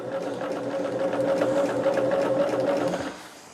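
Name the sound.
sewing machine stitching a quilt border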